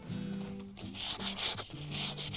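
Steady rubbing and wiping strokes against a wooden surface, a soft abrasive swish repeating in short passes, close up with no talking.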